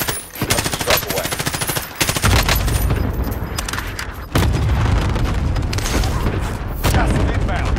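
Sustained machine-gun fire and heavy booming gunfire in a military combat game, loud and continuous with a brief pause partway through, faint radio-style voices underneath.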